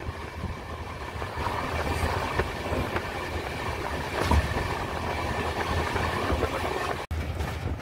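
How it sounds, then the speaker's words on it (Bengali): Howrah–Haridwar Kumbh Express leaving Madhupur, heard from inside a carriage: a steady, loud rumble of wheels and rolling stock with faint rhythmic clicks, continuous throughout and cut by a brief dropout near the end. "ট্রেন মধুপুর ছেড়ে গেল।"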